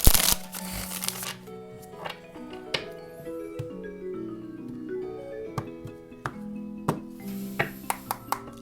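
Tarot cards shuffled briskly at the start, followed by a series of sharp taps and slaps as individual cards are drawn and laid down, with faint background music underneath.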